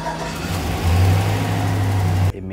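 A car engine cranks with a steady droning whir that holds close and loud for about two seconds, then cuts off abruptly into quiet. No voices are heard.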